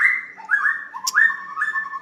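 A green leafbird (cucak ijo) sings nearby in short, clear whistled phrases that rise and fall and repeat in a quick run, with one sharp high chip partway through, loud over a quiet background.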